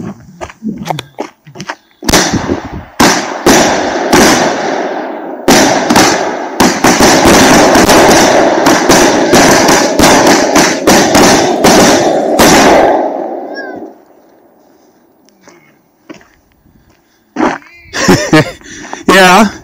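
A Big Bang Kasjopeja firework cake fires roughly sixteen loud, sharp 20mm cracking shots in quick succession, followed by fading crackle and a few scattered later pops.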